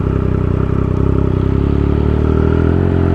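A Triumph Speed Triple 1200 RS is ridden at speed, giving a loud, steady engine drone with a continuous low buzz and road roar throughout, recorded up close with no talking.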